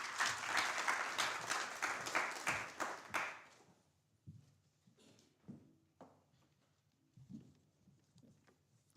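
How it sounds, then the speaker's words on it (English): An audience at a moot court competition gives a round of applause, a few seconds of steady clapping that stops abruptly, followed by quiet room noise with scattered soft taps and shuffles. "may I welcome with a round of applause Advocate Magama."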